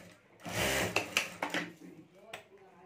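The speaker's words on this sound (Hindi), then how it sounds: "तो यहाँ ऊपर मैं सिलाई कर देता हूँ।" An electric sewing machine stitching a zipper onto a homemade sling bag runs in one short close burst with a few clicks, then stops.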